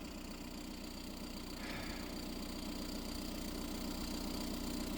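A car engine idles with a steady, low mechanical hum and faint vibration, quiet and continuous with no voices.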